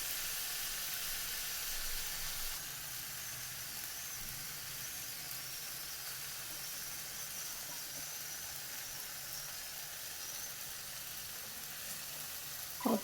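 Soya chunks sizzling in a pan with green chilli sauce, a continuous low hiss of frying with faint stirring scrapes and a brief clatter at the end, no talk.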